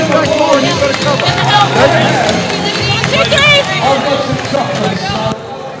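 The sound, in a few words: vocal basketball crowd cheering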